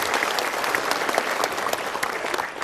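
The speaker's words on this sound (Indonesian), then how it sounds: "Kita berikan tepuk tangan" An audience claps steadily through a talk, with dense, sustained applause from a crowd filling the room at an even loudness from start to finish.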